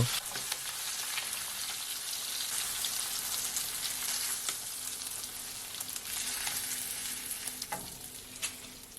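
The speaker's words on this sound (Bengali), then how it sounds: "অন্য পাশে ইলিশ মাছ এক মিনিট ভাজা হয়ে গেলে" Hilsa fish deep-frying in a pan of hot oil gives a steady, dense sizzle with scattered crackles and pops, close and loud throughout, with no talking.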